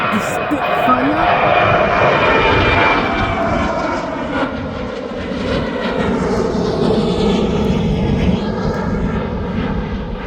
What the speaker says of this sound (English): There goes the plane to Kos